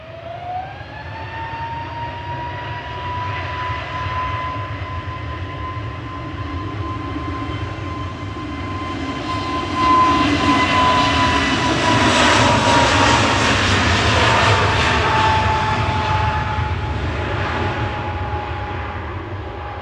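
EasyJet jet airliner on its takeoff roll from runway 23 left at Manchester Airport, a loud sustained engine roar with a rising whine tone that swells to a peak midway and stays strong, heard alone without talk.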